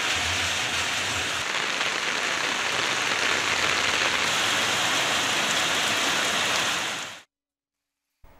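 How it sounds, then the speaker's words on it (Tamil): Moderate rain falling in the Tambaram area of Chennai, Tamil Nadu: a steady, dense hiss of rainfall holds evenly for about seven seconds, then cuts off abruptly into silence. "சென்னை தாம்பரம் மற்றும் அதனை சுற்றியுள்ள பகுதிகளில் மிதமான மழை பெய்தது."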